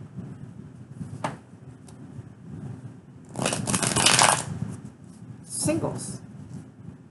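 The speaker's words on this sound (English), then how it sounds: "All right, last shuffle." Tarot cards being shuffled by hand, with soft rustling and a few louder riffling bursts near the middle and end, under a quiet voice talking throughout.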